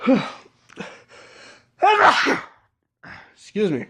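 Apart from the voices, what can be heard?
sneeze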